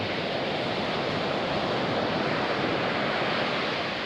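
Ocean surf at Baler washing onto the shore, a loud, continuous broadband roar of breaking waves close by with wind mixed in and no talk.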